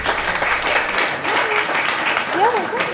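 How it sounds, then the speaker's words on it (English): An audience applauding Evelyn and Wilbur at a pitch show, a short burst of clapping spread through the room, with a voice and a few whoops or calls rising over it. "Please give a big round of applause to Evelyn and Wilbur"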